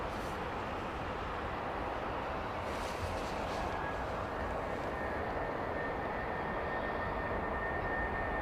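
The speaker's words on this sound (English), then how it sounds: "jets pushing back here." Jet airliners push back at London Heathrow, giving a steady broadband engine rumble and whine that holds at a moderate distance with no talk over it.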